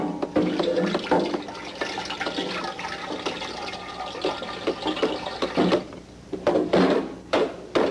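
Water runs steadily from a kitchen tap into a pot for boiling linguine, a continuous broadband rush with clinks and knocks of the pot, fairly close and alone with no talk.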